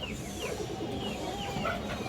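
Pigeons offered for sale at a Bangladeshi bird market, including old black male and female birds, with soft cooing and clucking bird calls over a steady, busy background din.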